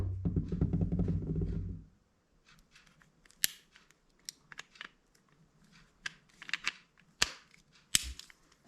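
A rimfire revolver dry fired, its firing pin striking the cylinder, heard as scattered sharp, close metallic clicks after a brief low rumble at the start.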